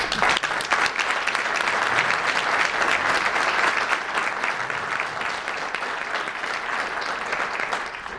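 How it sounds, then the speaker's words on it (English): An audience gives a sustained round of applause for Linda, full and steady from start to finish and easing slightly toward the end, with no voices on top. "everybody, nice round of applause for Linda"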